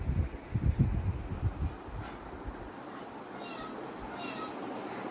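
A cat meows faintly a few times after a burst of low rustling and handling noise, against a quiet background.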